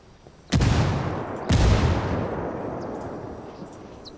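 Two heavy explosions from frag grenades in a Ghost Recon PvP match, about a second apart, each a sharp loud blast with a long rumbling tail that slowly fades; no talk over them.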